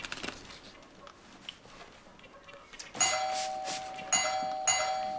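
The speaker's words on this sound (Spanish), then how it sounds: "Está sonando el timbre" A doorbell rings in an apartment in a Spanish TV sitcom, with bright sustained chime tones arriving partway through and a second ring soon after, loud over a faint background with no talking.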